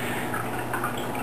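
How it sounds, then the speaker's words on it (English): Wine being poured into a glass, a soft continuous liquid trickle and splash at close range, fairly quiet and unbroken for just over a second with no talking. "time to pour a glass of wine"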